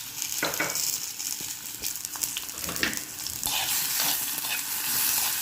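Onion and tomato frying in a pan for vada curry, a steady close sizzle with scraping stirs and a few sharp clinks of the spoon against the pan.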